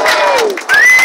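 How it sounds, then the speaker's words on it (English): A crowd at the Folkestone Christmas light switch-on cheers and whoops for young Mia, with high shouting voices rising over a dense, loud burst of applause that lasts about a second. "A round of applause for young Mia"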